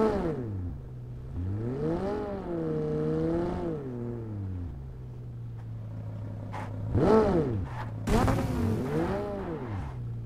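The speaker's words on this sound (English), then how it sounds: "Oh, this is a Lamborghini." A Lamborghini engine in the mobile battle royale game PUBG Mobile revs up and down in smooth, rising and falling sweeps of moderate loudness, with a brief louder surge near the end.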